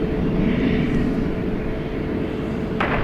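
A 32-year-old Airbus A320 airliner at DFW Airport gives off a continuous low engine rumble and roar, steady and moderately loud with no voices over it.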